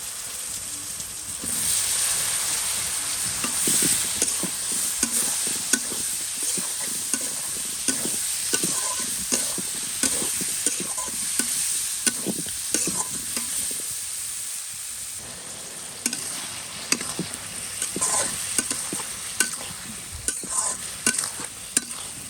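Spice paste being fried and stirred with bottle gourd for a hilsa curry, a dense sizzle broken by frequent scraping strokes of the spoon over about twenty seconds.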